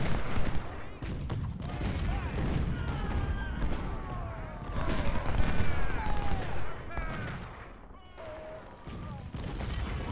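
Volleys of musket fire and scattered pot shots in the Civil War strategy game Ultimate General: Civil War, Antietam battle, a dense continuous crackle of distant gunfire over battlefield ambience with whistling tones.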